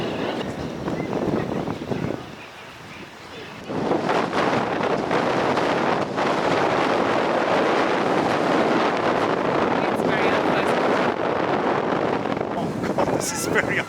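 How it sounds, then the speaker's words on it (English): Strong wind buffets the microphone at a scenic lookout on a bus trip between Pucón, Chile and San Martín, Argentina, roaring almost without pause apart from a brief lull, with people talking over it. "The sun is nice and warm, but the wind is vicious."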